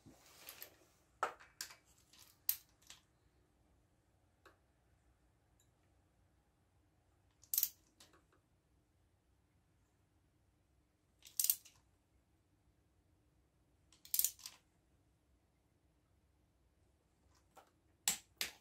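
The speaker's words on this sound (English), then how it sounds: "I've checked it in the vise to make sure the torque wrench clicks at that setting" A torque wrench clicks sharply in short isolated bursts while tightening a KZ1100 motorcycle cylinder head in a quiet workshop, with long pauses between the close, crisp clicks.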